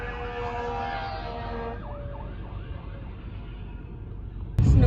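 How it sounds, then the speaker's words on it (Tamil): A fire truck siren wailing along a snowy street, loud at first then fading and falling as it passes, with a sudden burst of louder rumbling noise at the very end. "இந்த சைடும் வருது ஃபயர் ட்ரக், இந்த பக்கம் வருது."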